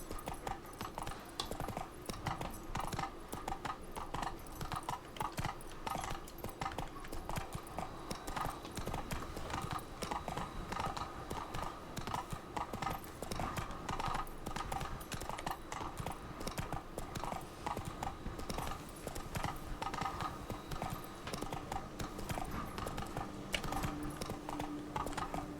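A horse gallops in a video game, its hoofbeats clip-clopping in a rapid, steady rhythm throughout, close and fairly loud over a constant background with no talking.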